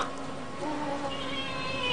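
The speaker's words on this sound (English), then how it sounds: "There are some cats from the graveyard." Cats meowing as a graveyard sound effect from the Haunted Mansion attraction at Walt Disney World, several drawn-out, eerie meows overlapping steadily across a short stretch with no talk.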